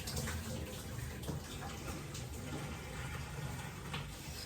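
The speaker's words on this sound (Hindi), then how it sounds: "सबसे पहले मैं आलू का पानी खाली कर देती हूँ" Water drained from a pot of boiled potatoes, a steady splashing gush with faint clinks, moderately close and alone.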